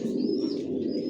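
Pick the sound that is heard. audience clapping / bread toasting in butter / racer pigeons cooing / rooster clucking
racer pigeons cooing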